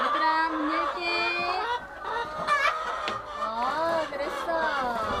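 Chickens clucking inside a Korean chicken farm's coop, a dense chorus of overlapping hen calls close by, with a person talking over the birds.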